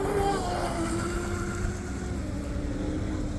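Small motor of a J&R Marine H15 mini RC hydroplane running on water, a steady buzzing whine heard from a distance with wind and water noise, its pitch wavering slightly as it runs.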